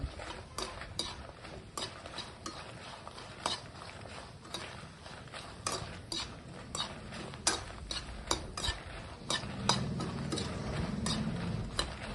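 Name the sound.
frying dried red chillies on low flame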